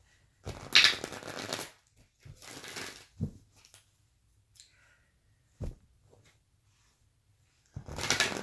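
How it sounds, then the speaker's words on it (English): A playing card pulled and shuffled from a deck, giving short papery riffling bursts and soft clicks spread across the quiet, with brief gaps of near silence between them. "I'm about to pull another card"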